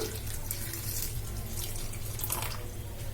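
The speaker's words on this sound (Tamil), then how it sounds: "இந்த தண்ணியை இதுல நம்ம ஊத்திக்கலாம்." Hot water poured from a vessel onto cauliflower pieces for pakoda, a steady close splashing pour running continuously for a few seconds with no talk over it.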